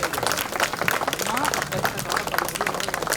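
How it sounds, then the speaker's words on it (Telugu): A standing audience applauds loudly at an event, dense clapping merged with a speaker's voice talking over it for a few seconds. "గట్టిగా చప్పట్లు నిలబడి కొట్టాడు."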